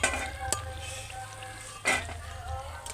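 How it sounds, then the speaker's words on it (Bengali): Bori, small lentil dumplings, fry in hot mustard oil with a steady sizzling hiss, broken by a couple of sharp metallic clinks and scrapes from stirring in the pan. "এখানে বড়িটাকে আমি ভেজে নিচ্ছি।"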